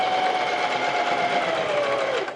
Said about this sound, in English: now I'm coming through all that thickness